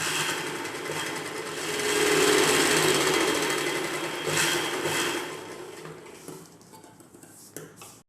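A sewing machine runs in a fast, steady whir while stitching an umbrella-cut top, close and continuous, swelling and easing slightly before slowing near the end.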